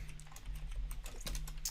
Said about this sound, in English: While you're typing up